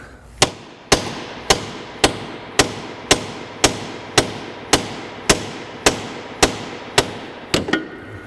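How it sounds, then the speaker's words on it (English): A heavy hammer strikes a car's front suspension backing plate about fourteen times in a steady rhythm, each blow sharp and ringing, close and loud, with a couple of quicker hits at the end, on a 1998 Mazda 626. "The bigger the hammer, the better."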